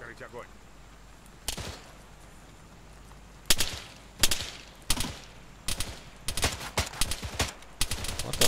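Gunfire in the Arma 3 zombie mod: sharp single shots and short bursts, sparse at first and then quicker and denser toward the end, loud against a low ambient bed.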